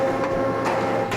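A mandrel tube bending machine feeds exhaust tubing at a header shop, a steady mechanical whirring hum with a few short pulses, close and constant over the brief stretch.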